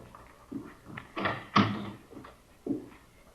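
A door handled in an old radio crime drama, with a few soft wooden thunks and knocks spread over a few seconds as it opens and shuts, fairly close and moderately quiet, with no talk.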